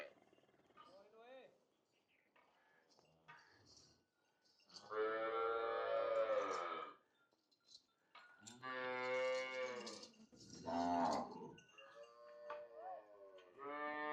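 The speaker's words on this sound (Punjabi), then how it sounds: "ਇਹ ਦੋਸਤੋ ਗਾਂ ਚੋਲਸਤਾਨੀ ਫਰੀਜ਼ੀਅਨ, ਇਹ ਇਹਦਾ ਚੋਲਸਤਾਨੀ ਫਰੀਜ਼ੀਅਨ ਦਾ ਪਿੱਛੇ ਵੱਛਾ ਹੈ" A Cholistani Friesian dairy cow, with her calf nearby, gives several long, loud, deep moos in a row, while fainter voices murmur in the quieter gaps between the calls.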